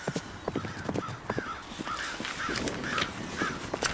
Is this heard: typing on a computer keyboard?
no